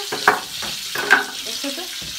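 Mushroom schnitzel of portobello sizzles and crackles in a hot pan while it is stirred and shifted around, close by.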